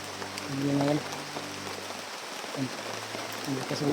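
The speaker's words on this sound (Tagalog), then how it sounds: "Magpapasilong muna tayo dito. Habang yung ulan ay lumakas." Rain falls in a soft, steady patter, fairly faint, while a voice or hum is heard briefly over it.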